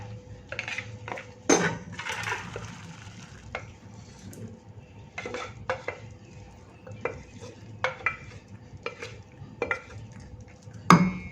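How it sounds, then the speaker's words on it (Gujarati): Soft scraping and clinking of a spoon against a metal pot as cooked green moong lentils are scooped and moved, with a few sharper knocks, close and quiet. "હવે એક વાસણમાં કાઢી લઈશું"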